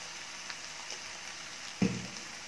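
Soft, steady sizzle of tomatoes and spice powders sautéing in a pan for a pirandai (adamant creeper) gravy, with a light clink near the end and no talking.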